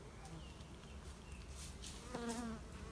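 Honey bees buzz around an open hive during the summer honey harvest, a soft continuous hum with a few louder passes drifting close by.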